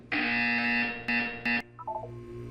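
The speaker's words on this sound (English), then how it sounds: "When you hear the buzzer, look up at the ceiling." A loud electronic buzzer sounds in the video game Portal 2: one long, harsh tone followed by two short pulses, then it cuts off, leaving only quiet background.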